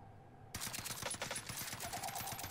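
Sustained automatic gunfire in the Warzone battle royale game, a weapon firing a rapid, steady stream of loud shots that starts abruptly after a quiet half-second and continues to the end without talk.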